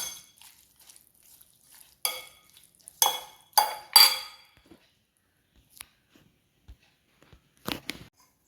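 Lemon pickle mixture for an Onam sadya stirred with a spoon in a bowl, producing sparse scraping clinks and knocks in irregular bursts, close and fairly loud, with quiet gaps between them.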